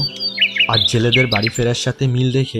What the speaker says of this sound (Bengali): কদুলিতে পাখির কিচিরমিচির শব্দ